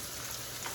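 Ground beef fries in a pan over a lowered flame for a baked penne casserole, giving a steady, close crackling sizzle that runs alone without pause.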